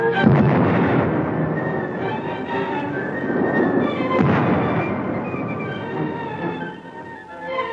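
Gunfire and blasts from archival war footage of militiamen attacking the Danzig post office, a dense, rumbling barrage of overlapping shots and booms that swells and fades without any speech.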